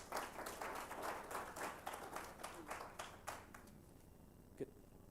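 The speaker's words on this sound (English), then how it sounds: "One more round of applause before we get in." An audience at a Kenyan digital and BPO industry forum claps for a panel, a dense round of applause that holds for several seconds and then thins out into a quiet room, with a last single clap near the end.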